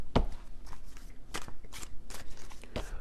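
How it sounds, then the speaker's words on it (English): A deck of tarot cards being shuffled by hand: a run of crisp, close riffling and flicking bursts at an uneven pace, with no voice over it. "I just shuffled this deck"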